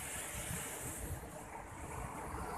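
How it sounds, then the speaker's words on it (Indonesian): High sea waves roll onto a storm-battered beach in Seunuddon, North Aceh, where trees have fallen. A distant surf makes a faint, steady broadband rush with a wind-like hiss and no clear individual breaks. "Jadi ombaknya tinggi."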